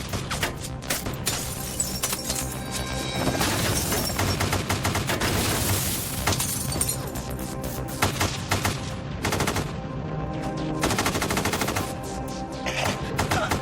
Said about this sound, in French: Ils tirent des centaines de coups de feu.